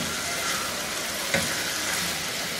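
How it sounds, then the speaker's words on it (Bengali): Chicken stir-fry with spring onion leaves frying in oil, a steady close hiss and crackle of sizzling throughout, with one brief louder clink or stir partway through. "সেই জন্য আমি এর সাথে জাস্ট একটু ভেজে নিব আর কি, এই মিনিট খানেক, পেঁয়াজ পাতা একটু নরম হওয়া পর্যন্ত।"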